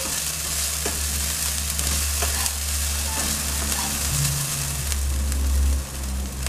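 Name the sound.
turmeric being stirred into a tofu curry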